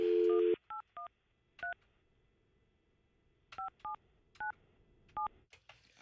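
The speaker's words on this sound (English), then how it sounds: "Hey, Crystal, we're trying to call you." Telephone keypad DTMF tones beep in short separate bursts as a number is dialed, starting with a brief steady tone and then about eight clipped beeps in uneven groups, close and fairly quiet.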